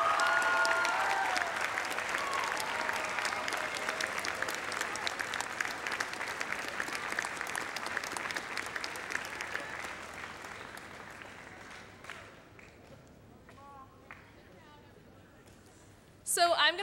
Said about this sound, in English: give a big round of applause to our parents.